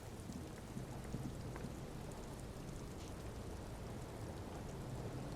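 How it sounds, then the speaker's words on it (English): Steady rain falls with a low rumble of thunder beneath it in the video game Disco Elysium, a continuous, fairly quiet hiss that stays even throughout with no voices. "It's raining."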